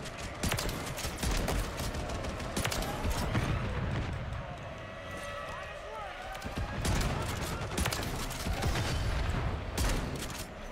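Reclaimer 18 shotgun fired in Call of Duty: Modern Warfare III, with a series of sharp, punchy blasts spaced irregularly over game background noise and someone talking.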